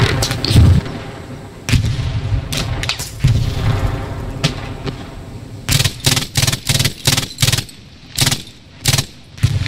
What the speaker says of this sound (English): suddenly artillery landed on my head